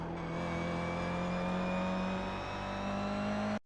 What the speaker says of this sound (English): engage the throttle to push the car towards the next straight